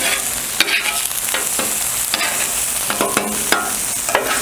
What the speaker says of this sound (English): Stuffing in the egg. And we'll mix up the vegetables just a little bit more.